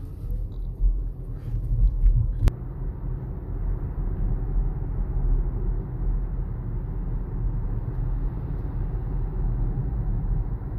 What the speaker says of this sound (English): When I do want to go forward, I can simply press the accelerator